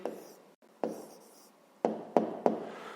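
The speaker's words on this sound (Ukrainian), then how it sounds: "Пишемо відповідь." A pen writes out a math answer on paper, several short scratching strokes with brief pauses between them, close and quiet with no talking.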